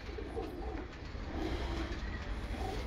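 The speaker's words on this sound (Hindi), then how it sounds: "हम मौजूद हैं उस्ताद हाजी अब्दुल रशीद साहब के मेन ब्रीडर कबूतरों का आपको लाइव शो करवा रहे हैं उनके घर।" Breeder pigeons cooing at a master breeder's home loft, a steady low murmuring coo that carries on without pause over a constant background hum, with no talk.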